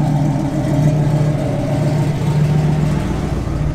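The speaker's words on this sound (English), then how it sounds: "Great sound and big block, man." A 1968 Chevrolet Camaro SS with a big-block V8 runs steadily nearby, a deep continuous rumble holding at a fairly constant idle with no talking.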